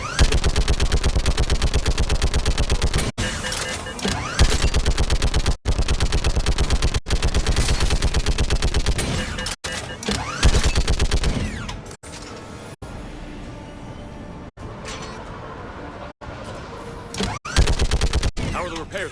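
Sustained rapid automatic gunfire in a war video game, loud and continuous with brief gaps, joined by mechanical clanking and creaking as the firing thins out toward the end.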